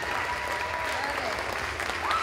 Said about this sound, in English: so we can give them a good round of applause